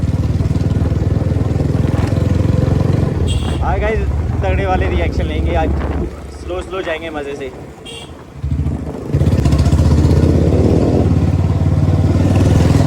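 A Bullet motorcycle with a loud, firecracker-like exhaust rumbles steadily on a road, deep and close throughout. The engine drops lower while someone talks in the middle, then surges back up.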